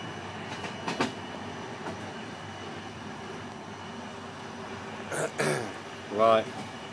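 Steady rumble and rattle of the Trans-Asia Express train running on rails between Turkey and Iran, with brief clacks and a couple of louder bumps and a throat clearing near the end.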